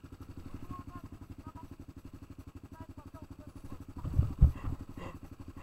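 A motorcycle on a trail ride among friends gives a rapid low engine chug that runs steadily, then rises in a louder burst near the end, with voices talking over it.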